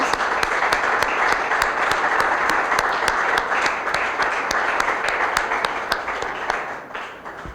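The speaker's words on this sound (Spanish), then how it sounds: "así que vamos a aplaudir a Clara Llanés, por favor." An audience at a literary event claps steadily and warmly for several seconds, a dense, sustained round of applause that tapers slightly toward the end.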